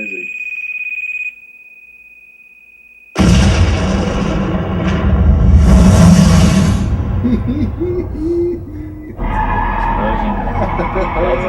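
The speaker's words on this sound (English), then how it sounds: "That's a good explosion." A film explosion booms in abruptly after a steady electronic tone, a dense, loud blast with rumbling debris and crackle that slowly decays, followed by a fresh swell of roaring noise.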